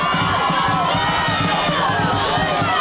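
Cheerleaders and a crowd cheering at a high school varsity quarterfinal football game, a steady dense wash of many voices with a rhythmic pulsing beat beneath, continuous and fairly loud throughout.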